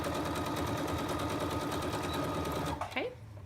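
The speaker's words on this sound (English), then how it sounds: "I am going to back stitch for this part, so I'm going to reverse, and then I will stitch across." Domestic sewing machine running steadily in reverse then forward while back stitching across a fabric apron seam, a continuous close motor whir with rapid needle rhythm that stops near the end, with a person speaking briefly.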